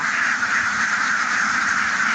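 A dense flock of free-ranging ducks in a harvested rice field quacks continuously, a busy overlapping chorus with no pauses, close and loud.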